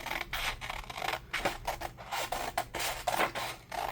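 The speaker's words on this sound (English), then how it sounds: "I'm going to go ahead and cut out one of these." Scissors cutting out a handmade paper tag with a pocket, a run of close, quiet snips and rustles in an irregular rhythm, no talking.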